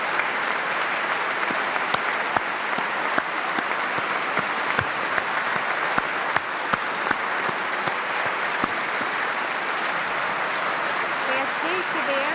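PSD and CDS members of the Portuguese parliament applaud at a presidential inauguration, a dense, sustained round of clapping across the chamber, with a voice speaking over it.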